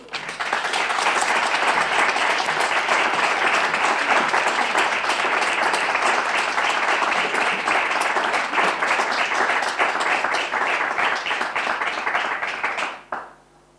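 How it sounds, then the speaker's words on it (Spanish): Warm, sustained applause from an audience at a journalists' association event, dense steady clapping filling the room for about thirteen seconds before cutting off abruptly. "entonces para todos ellos y para José Manuel pido un muy caluroso aplauso"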